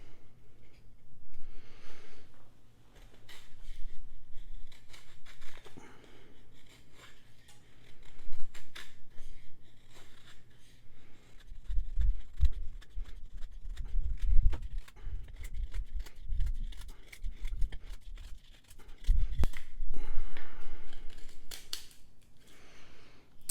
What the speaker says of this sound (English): we're going to test the ergos and how well this edge is still biting on this pine 2x4